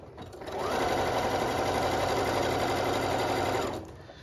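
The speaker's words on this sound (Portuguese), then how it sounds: "estico 1 centímetro e faço o processo de costura" A domestic sewing machine stitching elastic onto a panties waistband runs in one steady, close whirring burst of rapid stitching, starting after a brief pause and stopping just before the end.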